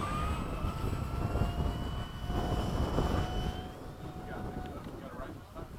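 A Hobby King 70mm 6s Skysword RC jet flies at LFE, its steady high turbine-like whine rising and falling in pitch amid rough wind noise, with voices talking over it.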